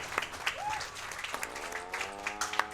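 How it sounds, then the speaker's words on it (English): Audience applause at a speedrun event for Grand Theft Auto: Vice City, a steady patter of clapping that runs under brief game sounds and a short tone. "Please clap."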